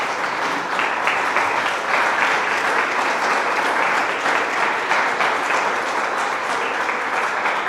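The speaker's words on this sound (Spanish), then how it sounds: "Dar un aplauso al Señor." A church congregation gives a sustained round of applause to the Lord, steady dense clapping that fills the room from start to finish.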